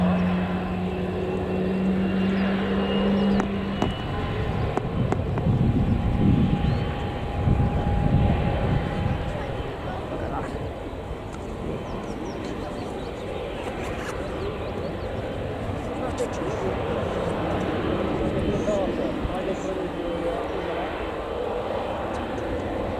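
An aircraft at Newcastle Airport, a continuous engine roar with a louder rumbling surge early on, heard under people talking.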